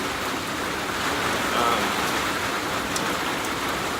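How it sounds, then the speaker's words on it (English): Steady rain falls at Thunder Hill Shelter on the Appalachian Trail, a continuous even hiss of drops drumming on surfaces close by, with no voices. "and it's still raining."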